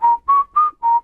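Human whistling of a tune, a clear, loud, close melodic line of four quick sustained notes with short gaps between them, heard alone.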